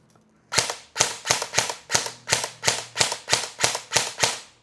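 An ENC 305 airsoft rifle fires full auto in a rapid string of about a dozen sharp, evenly spaced cracks, close and loud, with no talking.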